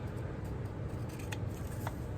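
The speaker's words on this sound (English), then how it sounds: "when you go to trim it out with your scissors or whatever, leave a bit of a margin" Scissors cut around a stamped paper image, a few soft snips and crisp paper-cutting sounds set over a low, steady room hum, quiet and close.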